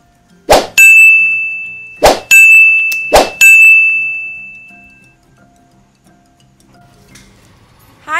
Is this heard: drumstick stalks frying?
no